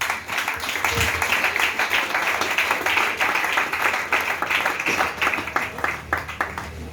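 A church congregation applauding in acclaim of the Lord, a dense, steady patter of many hands clapping throughout, fairly close and moderately loud.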